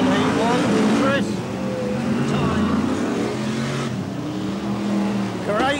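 BriSCA Formula 1 stock cars race around the Kings Lynn oval, a loud pack of roaring engines rising and falling as they pass, with a commentator talking over the noise.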